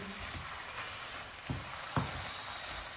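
A potato and chicken samosa filling frying in a pan while being stirred, a steady moderate sizzle broken by a couple of soft spoon scrapes and knocks.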